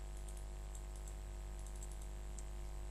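Keys clicking in a quick, irregular run of computer keyboard typing, small taps scattered across a few seconds over a steady low electrical hum.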